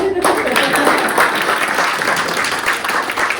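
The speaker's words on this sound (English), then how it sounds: "Give a big clap." Loud, dense audience clapping at an early child care educators' gathering, continuing evenly throughout, with voices talking over it.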